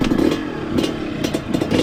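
A motorcycle engine sunk in deep mud up to the motor chugs and revs in uneven bursts, loud and close, with clattering and scraping mixed into the strained running.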